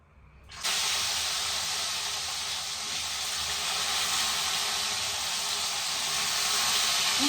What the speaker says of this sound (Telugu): నేను వంకాయ సపరేట్గా ఫ్రై చేస్తాను అనమాట